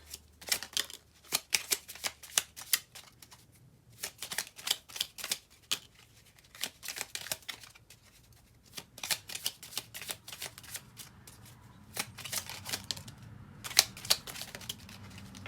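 Tarot cards are shuffled in quick bursts of crisp riffling and slapping, pausing briefly between rounds and resuming, close and fairly quiet with no talking.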